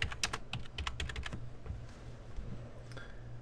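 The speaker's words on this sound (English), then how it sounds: "I'm going to type in grain fill" Typing on a computer keyboard, a quick burst of crisp key clicks followed by a few scattered taps, close and fairly quiet, with no one talking.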